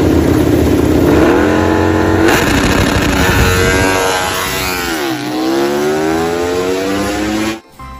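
A toy racing motorcycle engine revs continuously, its pitch sliding up and down in loud, close whines for several seconds before cutting off abruptly near the end.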